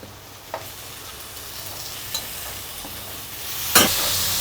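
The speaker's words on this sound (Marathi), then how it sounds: "आता हिला चांगली फ्राय करून घेऊ" Onion-garlic paste masala with red chili and tomato fries in a pan, a steady soft sizzle with a few scattered clicks and one louder stirring scrape near the end, heard alone.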